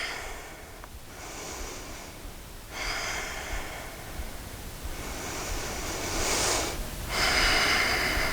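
Slow, deep breaths drawn and released through the nose while holding an upright hip flexor stretch, several long inhale and exhale cycles close to the mic over a steady hiss, with no talking.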